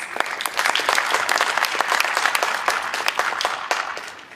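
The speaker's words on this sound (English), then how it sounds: "Let us give you another very big round of applause" A conference audience at a UNCCD COP16 side event applauds South Africa's Deputy Minister of Forestry, Fisheries and the Environment, a steady round of many crisp claps from a sizeable room that tapers off near the end.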